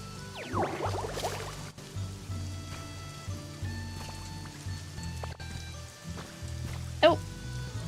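Rain falls in the video game Pokemon Pokopia, a steady soft patter of drops under game music and a few brief effects, with no talking over it.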